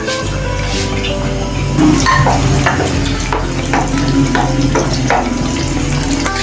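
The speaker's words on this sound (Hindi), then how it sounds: "अब हम इसको तड़के के लिए डालते हैं ऑयल में।" Loud, crackling sizzle of garlic and chilies frying in hot oil, with stirring, close up and continuous.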